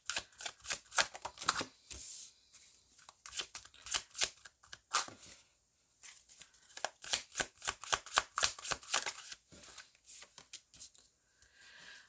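Tarot cards being shuffled and drawn, with one card dropped, make a rapid run of crisp riffling clicks and soft slaps in quick bursts, close and fairly quiet, with no talking.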